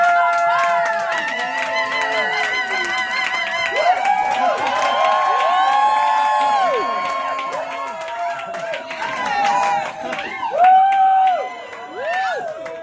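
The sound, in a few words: audience applause and cheering at a comedy show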